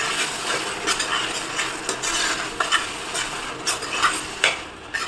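Tomato paste stirred into pav bhaji masala frying in a pan, with rhythmic scraping strokes of a spoon against the pan over a soft continuous sizzle and no voices.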